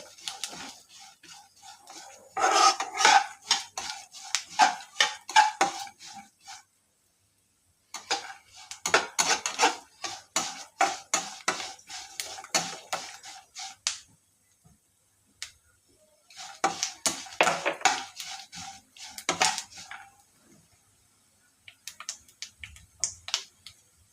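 Sesame seeds and oats stir-roasting in a pan for oats ladoo, heard as quick dry scraping and ticking of a spoon against the pan in three long bursts separated by short pauses, with no talk.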